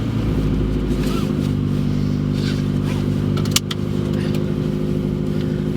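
A Toyota 86 rear-wheel drive sports car runs on a rainy, slippery road: a steady, loud low engine drone holds throughout with constant wet road noise, and a brief sharp knock lands partway through.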